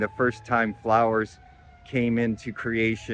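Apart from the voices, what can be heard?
No everyday noise stands out behind the speech.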